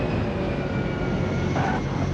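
A passenger airliner descends toward Guatemala City, its engines giving a steady, even roar that holds through the whole stretch with no voices.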